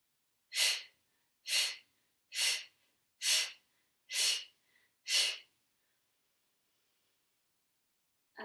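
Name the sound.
deep breathing in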